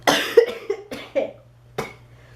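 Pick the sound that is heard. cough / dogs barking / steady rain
cough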